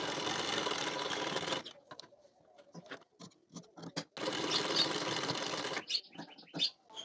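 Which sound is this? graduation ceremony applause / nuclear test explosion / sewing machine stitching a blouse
sewing machine stitching a blouse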